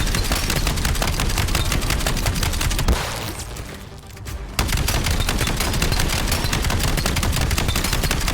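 Sustained rapid-fire gunshots in a video game as a player shoots a T-Rex from a raised position, loud and continuous, with a brief lull in the middle before the shooting resumes at full intensity.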